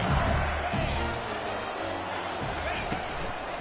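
A large crowd roars and yells continuously in a college football video game stadium (LSU vs UCF), a dense wall of noise with occasional thumps.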